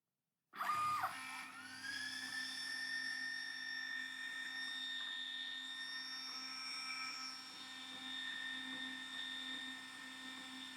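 An Algo MK2 laser engraver works a detailed hot rod design onto canvas, giving off a steady, close mechanical whine and fan hum with high tones that slide in pitch as the head moves. No one speaks.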